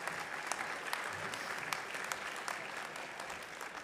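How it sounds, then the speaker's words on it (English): An audience at a spring business school convocation applauds graduates of an event management program, a faint, distant, continuous patter of many hands with occasional sharper individual claps. "Please give a round of applause for the graduates from the Event Management program."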